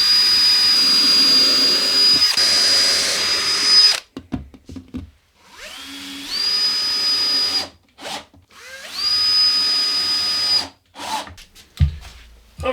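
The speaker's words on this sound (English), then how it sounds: "And now we're gonna drill these holes." A power drill drilling holes in wood whines at high speed in three long bursts, separated by short pauses and clattering handling noise, loud and close.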